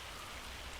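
Hailstones falling in Farming Simulator 25 make a steady, dense patter, a continuous broadband rattle of many small impacts at moderate distance, fairly quiet and without speech.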